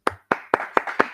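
Five sharp, separate claps from a few people in an audience as a guest lecturer is welcomed at a medical ethics forum, spaced evenly and fairly close, with no talk over them.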